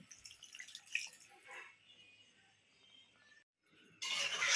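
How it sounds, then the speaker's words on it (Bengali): Water is poured into a cooking pot to boil jackfruit, a soft, uneven trickling and dripping close by, fading to near quiet before a brief louder splash at the end. "আমি এবার এখানে জলটা একটু দিয়ে দিলাম, সেদ্ধ হওয়ার ব্যাপার আছে"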